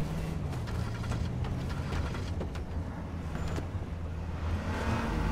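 A pickup truck driving in the game H1Z1 King of the Kill, a steady low engine drone at moderate distance, fairly quiet and continuous, with faint bits of background game noise and no talking.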